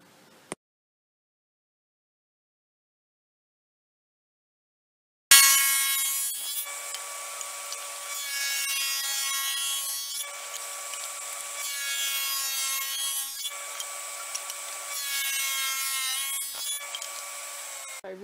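After several seconds of silence, a saw with a dado stack bites into cherry wood, cutting grooves: a loud, sustained whining cut with a rough tearing edge that swells and eases in several passes.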